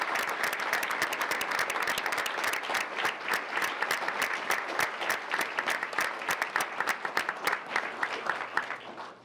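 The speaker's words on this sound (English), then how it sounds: "Let's give them a big round of applause." Audience applause for high school juniors and a cohort group at a school event: steady, dense clapping that fills the room and carries on throughout, fairly even in level, with no one speaking over it.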